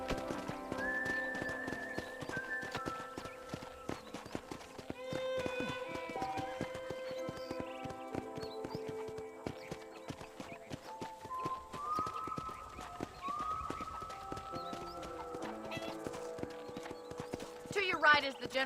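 Horse hooves clip-clop in a steady galloping rhythm in the Red Dead Redemption video game, with music and voices running over the hoofbeats throughout.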